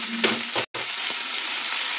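Chilli and chopped tomato fry lightly in a pan with a close, steady sizzle and a brief silent gap partway through.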